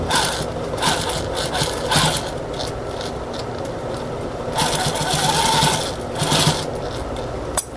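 A sewing machine stitches in a new zipper in steady bursts, the needle's rapid chatter starting and stopping several times with brief pauses between runs.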